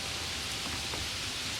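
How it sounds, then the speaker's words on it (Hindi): Heavy rain pours down in a forest as a dense, steady hiss of drops, constant and enveloping, with no other sounds standing out. "जंगल में कई दिनों से तेज बारिश हो रही थी।"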